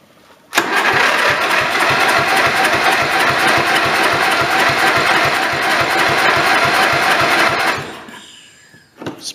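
An old tractor engine that has been sitting outside fires up after cranking and runs with a steady, loud, even chugging beat for about seven seconds, then cuts off.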